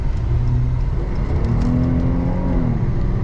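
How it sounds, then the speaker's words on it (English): A 2014 Jeep Cherokee Latitude with about 90k miles accelerates on the road, a steady loud engine drone rising in pitch over broadband road and wind noise, heard from inside the cabin with no talking. "We're going to give a little acceleration run here."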